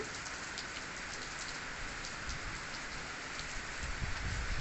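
Rain falls steadily on nearby surfaces as an even, continuous patter that swells slightly toward the end, with no one speaking.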